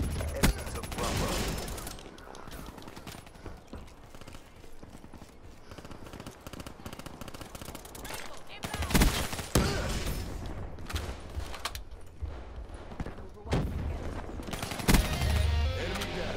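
Automatic weapon fire in Call of Duty: Black Ops III multiplayer comes in rapid bursts and sustained fusillades, loud and close, with some game effects and brief voice between the volleys.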